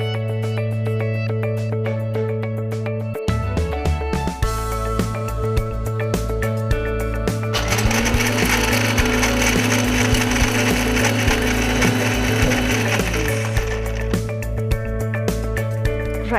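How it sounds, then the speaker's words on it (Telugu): A mixer grinder grinds roasted dry fruits, starting with a sudden loud whir, then a harsh, crunching, rattling drone that swells and settles before cutting out, near and loud with no talking. "ఐ థింక్ గ్రైండ్ చేసేయచ్చు."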